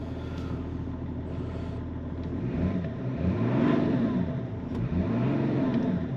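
Diesel engine of a BMW 530d E39 with a faulty fuel pump, idling with a low rumble and a few rising revs, moderately close and steady with no talk.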